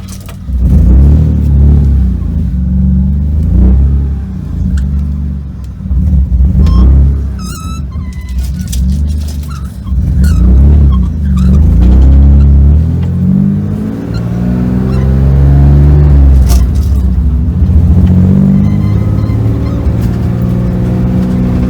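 A BMW E36 car engine drones and revs while driving, rising and falling in pitch over low rumble, with a brief honking or squeaky sound partway through.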